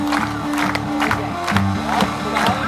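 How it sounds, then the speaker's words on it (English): A crowd on Brighton seafront claps together in a steady rhythm at a freestyle cycling show. Sharp, evenly spaced claps about twice a second sit over a sustained tone and a general crowd murmur. "If we come together, that is an organic rhythm clap"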